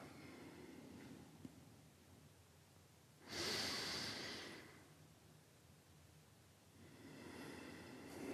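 Deep yoga exhalations, slow and close: a long breath out swells, then fades, with quieter breathing before and after in a still room.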